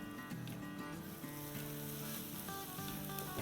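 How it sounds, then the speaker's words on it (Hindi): Onions sautéing in a pan, a steady, close sizzle and crackle of frying that runs unbroken throughout with no talking. "तो बस इसे हमें थोड़ा सा सौटे करना है कि हल्की सी सॉफ्ट हो जाए"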